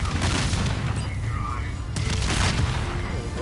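Blasts burst in midair during a Zombies in Spaceland round, a loud, continuous barrage of booms and crackling gunfire-like pops layered over each other, with bright bursts standing out near the middle.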